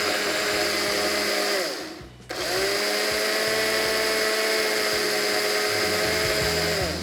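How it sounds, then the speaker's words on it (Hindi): A mixer grinder grinds spices into fine powder with a loud, steady high whirring drone. It briefly winds down and cuts out before roaring back up, with a rough rattling churn underneath. "जब भी उसको आप मसाले को पीस रहे हो ना, टक टक करके आवाज़ आ रही है"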